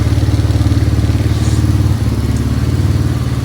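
A 1987 Yamaha Moto 4 200 ATV with a repaired carburetor idles close by, its engine putting out a steady, loud, even chug with no talking.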